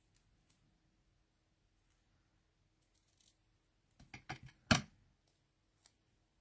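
Scissors trimming the ends off a craft piece, a short run of four or five crisp close snips after near silence, ending in one louder cut.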